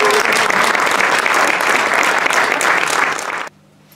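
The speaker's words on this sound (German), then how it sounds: "Mit einem herzlichen Applaus, The Magic Trio!" Loud, dense theatre audience applause for a magic act, a steady wash of clapping at the Komödie an der Steinstraße in Düsseldorf that holds strong for about three and a half seconds, then cuts to near silence.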